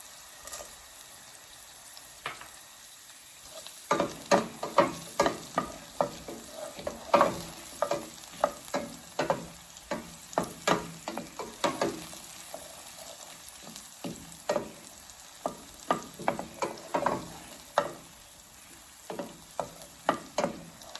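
Whole allspice sizzles in a hot pan while a utensil stirs it, giving steady frying hiss broken by frequent sharp scraping clacks over about twenty seconds, close and fairly loud.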